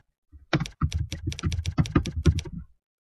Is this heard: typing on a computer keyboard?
yes